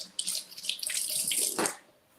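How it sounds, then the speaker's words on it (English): Strawberries rinsed under a running kitchen tap make a short, close burst of splashing water that swells and then stops after about two seconds, with no speech. "we will rinse these off and cut them up for him"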